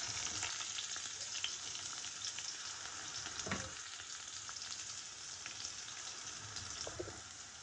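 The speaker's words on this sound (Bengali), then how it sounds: "এই যে তেল গরম হয়ে গিয়েছে, তো এর মধ্যে আমি এই পেঁয়াজ আর মরিচ দিয়ে দিচ্ছি।" Chopped onion and chili frying in hot oil in a pan, a continuous bright sizzle and crackle with a few spatters and stirring scrapes, close and steady with no talk.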